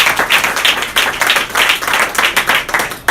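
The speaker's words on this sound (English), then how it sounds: "Let's give Carl a round of applause." Audience members at a political campaign kick-off clap loudly and close by, a brisk, rhythmic run of hand claps with pulsing bursts throughout.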